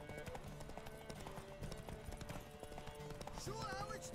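A horse gallops in The Witcher 3, with quick rhythmic hoofbeats thudding underneath a talking voice, faint and mixed with game music and ambience.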